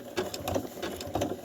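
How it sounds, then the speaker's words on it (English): A sewing machine stitches narrow pin binding slowly, its needle clattering in short rhythmic bursts that swell and ease over a steady motor hum, close by with no talk. "I'm just going to sew to the end, just nice and slowly"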